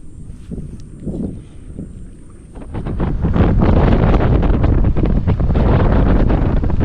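Strong wind roars and buffets against the microphone, quieter at first, then rising to a loud, constant gusting rush.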